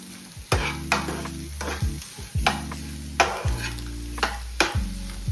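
A spiced dish being fried and stirred in a pan, with a steady sizzle broken by repeated loud spatula knocks and scrapes against the metal, roughly one every second, close up and without talk.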